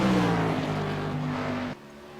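A Ford Fusion stock car, number 2, runs at Chicagoland with a loud, steady engine drone and shifting pitch, then cuts to a quieter, thinner tone near the end.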